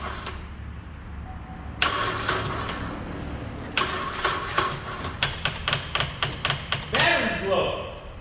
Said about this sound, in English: But it's cranking over now, so that's a good sign.